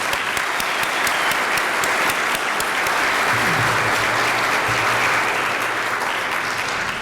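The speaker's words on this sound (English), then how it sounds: "please join me in giving everyone a big round of applause for your incredible generosity" Sustained applause from a large audience at an entrepreneur hall of fame induction dinner, dense and steady clapping filling the room without letting up.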